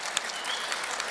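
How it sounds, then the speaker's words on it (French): Audience applause at a French microfinance talk for entrepreneurs, a dense steady wash of many hands clapping, fairly close and filling the whole brief moment without voices. "oui, on peut l'applaudir"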